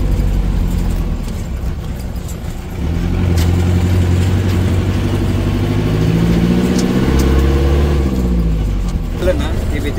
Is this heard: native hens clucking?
no